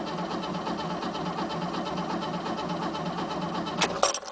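A 1967 Mercedes engine is cold-cranked, turning over with a steady rough churning that ends in a few sharp clanks near the end, heard close and fairly quiet.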